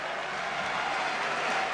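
A basketball arena crowd applauds a player at the free-throw line during a Korać Cup final between Orthez and Crvena Zvezda in Paris: a dense, even wash of clapping and crowd noise, steady throughout.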